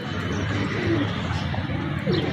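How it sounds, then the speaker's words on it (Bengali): Oman pigeons sound close by, soft low coos barely rising above a steady background of hum and murmur. "এটা মাদি কবুতর আর এটা নর কবুতর"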